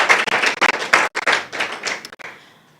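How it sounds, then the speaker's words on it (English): Graduates at a graduation ceremony clap for themselves, a close burst of rapid, uneven hand claps and taps that fades out over the last half second without speech. "Tunaweza jipigia clap moja."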